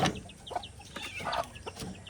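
Chickens cluck and peep in short repeated bursts nearby, several soft calls scattered over a low background rustle.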